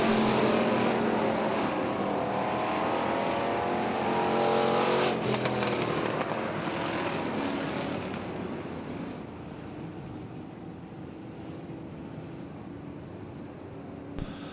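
Pure stock race cars roar around Lake Ozark Speedway, a loud sustained engine drone as the pack races past, fading slightly toward a more distant rumble.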